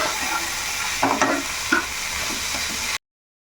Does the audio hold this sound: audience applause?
no